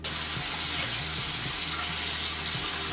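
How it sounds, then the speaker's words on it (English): Warm water runs steadily from a bathroom tap while a face is rinsed, a constant close splashing hiss with small irregular splatters and no talk. "I'm just going to rinse it off with some warm water and pat it dry."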